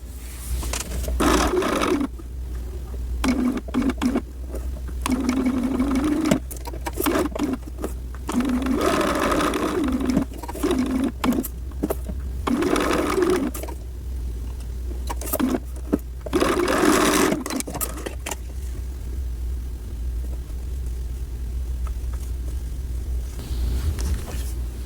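A sewing machine stitches the straps of a gown in repeated loud bursts of fast whirring, each run stopping and starting again, alone and up close.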